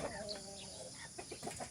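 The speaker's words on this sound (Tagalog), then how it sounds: "dito yung mga manok ko" Chickens cluck and murmur in short bursts at close range on a farm, with a steady background hiss and a few sharper calls toward the end.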